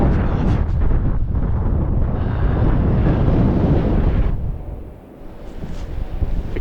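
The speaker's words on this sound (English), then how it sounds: "Very, very windy there." Strong gusting wind on the Scottish mountain Beinn a' Bhùird during Storm Dave, with snow falling, roaring loudly across the microphone with no talk, easing briefly near the end before picking up again.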